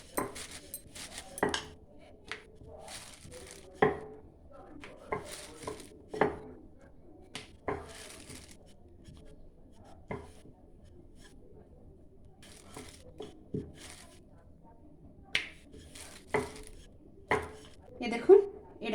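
Dough balls for spiced potato, carrot and fenugreek puris are rolled out with a rolling pin on a board, giving quiet intermittent knocks and rolling thuds at an irregular pace in a kitchen.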